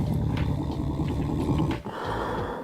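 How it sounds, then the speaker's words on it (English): Monster growl effect for a game, dog-like and snarling: a continuous low, rough growl that holds steady, dips briefly near the end, then rumbles on alone. "maybe a monster growling might be nicer"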